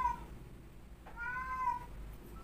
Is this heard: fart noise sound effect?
no